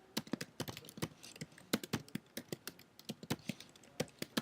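Code being typed on a computer keyboard: quick irregular bursts of close, crisp key clicks with short pauses between runs, no voices.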